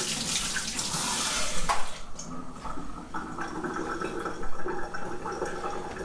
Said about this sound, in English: So let me just rinse off my hands.